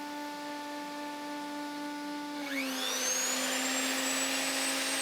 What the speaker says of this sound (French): Puis la défonceuse.